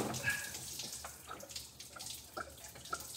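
Coolant spills and trickles out of a 1988 S15 truck engine after the upper radiator hose is pulled, a close watery pouring with scattered drips under faint background noise.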